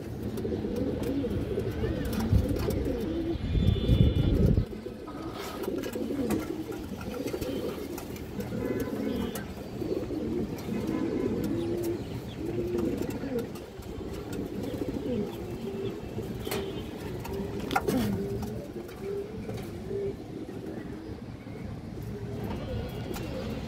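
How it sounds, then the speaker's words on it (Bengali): A large silver-necked female pigeon coos close by in a steady, throaty murmur that runs on for over twenty seconds, with some soft background noise. "সিলভার গলা মাদি কবুতর, বড় সাইজের একটা মাদি দর্শক।"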